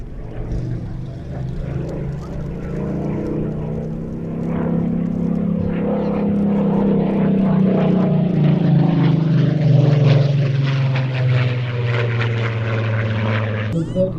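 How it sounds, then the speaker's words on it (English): Propeller aircraft of the Rolls-Royce Heritage Flight, based at East Midlands Airport, droning steadily overhead, its engine note swelling and shifting in pitch as it passes, loud and continuous throughout. "This aircraft, part of the Rolls-Royce Heritage Flight, it's owned by Rolls-Royce themselves, based at East Midlands Airport."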